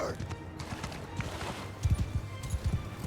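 Horses in Mount & Blade II: Bannerlord, hooves clopping in uneven bursts near the end over a steady battle murmur, fairly faint and mixed with distant game noise.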